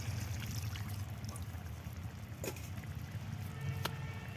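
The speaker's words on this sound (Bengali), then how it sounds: "মশলা ছিল বাটিটা ধুয়ে জলটা আমি দিয়ে দিলাম" Water from a rinsed spice bowl is poured into a cooking pan, a faint, continuous trickling splash heard up close, with no one speaking.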